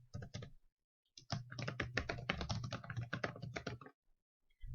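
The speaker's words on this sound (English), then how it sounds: "I am going to just type reading strategies" Quick bursts of keystrokes rattle on a computer keyboard up close as someone types a short phrase into a slide presentation, with a short pause near the start and quiet at the end.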